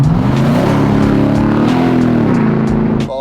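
A Nissan Y62 Patrol V8 fitted with a Legendex exhaust revs loud and close. Its deep, throaty roar rises and holds, then dips briefly before cutting off.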